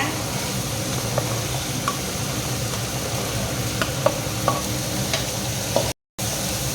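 Beans, carrot, ginger and garlic sizzling steadily in a pan for a carrot beans poriyal, with occasional light scrapes and taps of a spoon stirring through the constant frying hiss.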